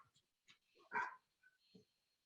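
A dog gives a few faint, distant barks and a brief yip, spaced irregularly against near silence.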